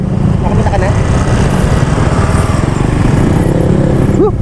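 A group of motorcycles idles with a steady, loud, close-up engine rumble that holds without pause, and a short rising tone near the end.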